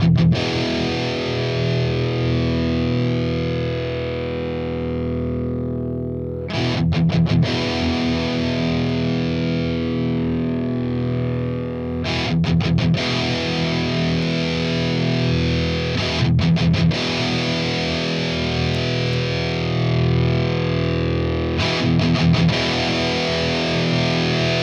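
Electric guitar through a Marshall TSL 100 amp channel with no boost pedal, heavily distorted sustained chords with periodic bursts of chugged palm-muted strums, loud and continuous throughout with no talking.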